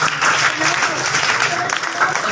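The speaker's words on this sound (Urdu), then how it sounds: "تالیاں ہو جائیں اس بچے واسطے" Continuous applause from an audience at a school annual results and prize ceremony, greeting a student's top marks; steady, dense clapping throughout, fairly close and full, with crowd murmur mixed in.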